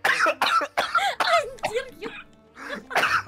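Several bursts of coughing and throat clearing from a person during a session of the video game Unravel 2, mixed with voiced sounds, close to the microphone.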